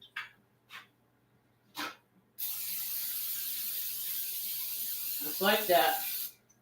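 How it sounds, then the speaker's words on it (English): After a few light taps, cooking spray hisses steadily onto a pan for about four seconds while a voice speaks briefly near the end. "And I'm gonna spray this pan."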